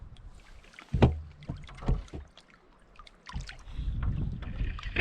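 Kayak paddle strokes splash and slosh through water close by on a loch, a few distinct strokes followed by rushing water breaking at the bow and light wind buffeting.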